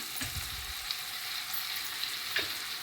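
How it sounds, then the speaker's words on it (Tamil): Onions and crab sauté together in a pan for a Jaffna-style crab curry, giving a faint, steady sizzle with a few soft stirring knocks near the start. "வெங்காயம் வதங்கி கொண்டிருக்க உப்பை போட்டால் வெங்காயமும் கொஞ்சம் கெரியாக வதங்கும்"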